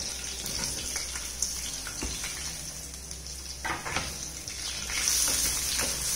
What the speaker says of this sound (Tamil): இந்த வெங்காயம் நல்ல கோல்டன் ப்ரௌன் ஆற வரைக்கும் வதக்கிக்கலாம்.